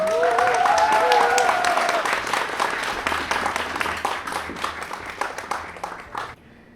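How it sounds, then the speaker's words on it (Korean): Audience applause for a band called forward at a showcase concert, loud and dense at first with a voice over the start, then thinning out and stopping abruptly near the end. "우리 밴드분들 앞으로 나오시겠어요? 박수 한번 부탁드리겠습니다."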